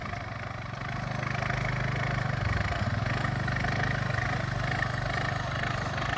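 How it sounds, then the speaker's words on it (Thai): A tractor engine drones steadily while planting sugarcane in a field, a continuous mid-pitched chugging hum at moderate distance that holds throughout with slight shifts in load. "รถไถ ปลูกอ้อยครับ"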